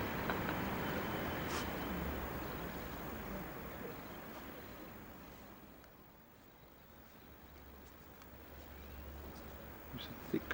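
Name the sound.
distant cars driving in fog in Spain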